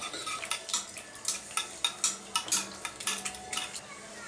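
A utensil clinks rhythmically against a bowl while beaten eggs are mixed with onion, green chili, salt and turmeric, giving a series of close, bright taps at a steady whisking pace.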